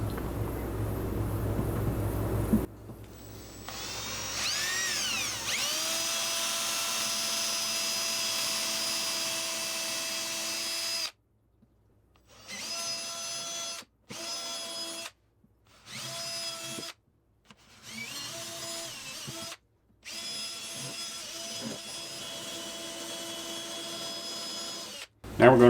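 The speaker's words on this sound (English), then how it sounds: "I put a small bit in my drill first for a pilot hole." Power drill boring small pilot holes into a butcher block table top, a steady high whine running in several long bursts with short pauses and stops, close and loud.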